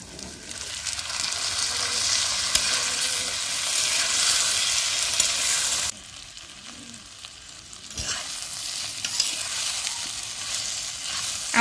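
Potatoes and yardlong beans frying in a pan in a rustic village kitchen, a steady loud sizzle with scraping stir strokes, dipping briefly halfway and then resuming with occasional clatter.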